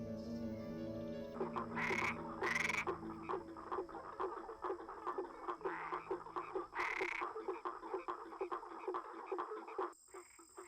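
Frog mating calls in the Brazilian Atlantic Forest, a rapid repeated croaking chorus pulsing steadily, with a few louder bursts standing out over the rhythmic calls and background music.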